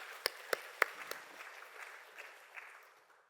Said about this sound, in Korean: 오늘도 우리 예배와 찬양을 받으시는 하나님께 영광의 박수 올리도록 하겠습니다.